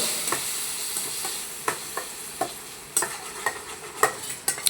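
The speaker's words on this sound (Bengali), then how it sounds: "দিয়ে একটু নেড়ে দিলাম" A spatula scraping and stirring cut potatoes in a burnt, stained kadai, sharp clacks and scrapes recurring irregularly over a soft background sizzle, close and clear with no talking.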